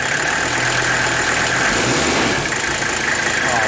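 A Mercedes 300SD diesel engine runs loudly close by after an injector rebuild, a dense continuous rumble that swells slightly as it revs, with no voices over it.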